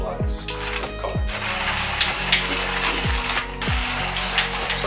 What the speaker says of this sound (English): So I don't have to change the grind size on just the one manual grinder. And it's nearly done.